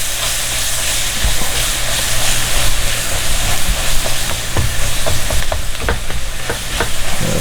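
Garlic sizzles in a hot pan with a loud, steady hiss, joined by intermittent stirring scrapes and a low hum in the background, close up and without talk.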